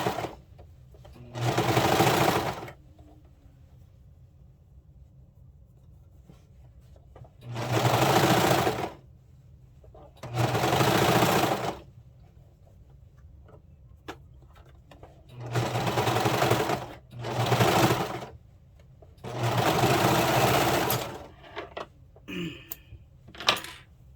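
A sewing machine stitches a cuff onto a hoodie in six separate bursts of steady, close whirring, each running one to two seconds. Brief quiet pauses fall between the bursts while the fabric is repositioned.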